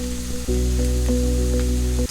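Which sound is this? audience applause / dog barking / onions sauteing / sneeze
onions sauteing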